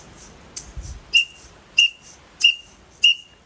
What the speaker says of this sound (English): The whistle gets introduced at this point as well